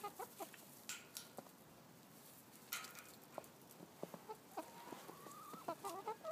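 Hens cluck nearby in a string of short, uneven calls and squawks, with a rising drawn-out note near the end, all alone without talk.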